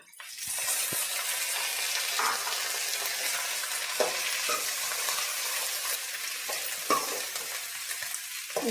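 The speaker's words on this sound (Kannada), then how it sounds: "ಈರುಳ್ಳಿ ಬೆಂಡೆಕಾಯಿನೂ ಸಹ ಎರಡು ಫ್ರೈ ಆಗ್ತಿದೆ" Onion and okra fry in a pan with a steady, close hiss of sizzling oil, broken by occasional soft knocks of stirring.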